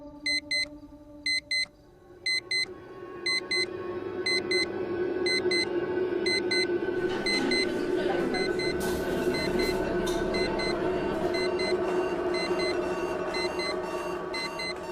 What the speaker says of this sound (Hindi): ये अलार्म बंद ही नहीं हो रहा है